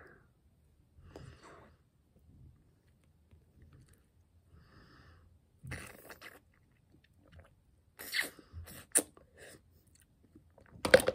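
Someone chewing chewy, oddly textured sweets at close range: soft, scattered mouth sounds that get a few louder crunchy bursts toward the end, with no talking.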